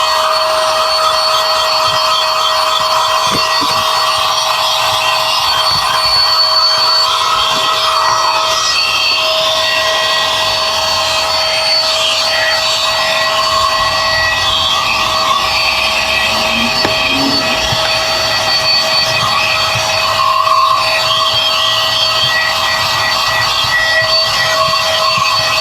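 Xiaomi Mijia portable 4-in-1 vacuum cleaner sucking up stones and debris inside a vehicle, a steady close whine with faint rattles of grit, continuous and loud, no talk.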